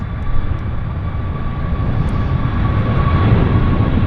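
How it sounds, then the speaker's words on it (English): A heavily fuelled WestJet airliner bound for Honolulu rolls for takeoff at Vancouver airport, a steady, loud, broadband engine roar holding throughout with a faint tonal whine on top. "WestJet on the roll. Next stop, Honolulu International."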